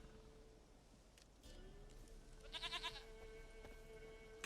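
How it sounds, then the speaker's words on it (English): A goat bleats in The Witcher: Wild Hunt, a few wavering, nasal cries around the middle of the clip over a steady game ambience with a soft background tone. "Goat of mine, dearest,"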